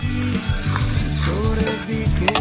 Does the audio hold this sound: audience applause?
no